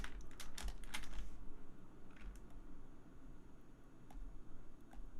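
Keys click on a computer keyboard during ZBrush 2023 modeling, a quick cluster of sharp taps at first, then sparser scattered presses over a low steady background hiss.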